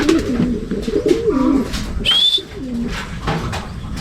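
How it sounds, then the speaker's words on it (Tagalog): Pigeons perching on thorny branches coo in low, soft, repeated rolling notes close by, with a brief higher chirp partway through and some background noise. "Kahit na meron tinik doon mga kalapatids, doon pa rin dumadapo."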